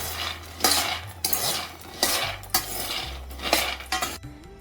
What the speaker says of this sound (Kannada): ಚೆನ್ನಾಗಿ ಹುರಿಬೇಕು ಇದು ಶೇಂಗಾ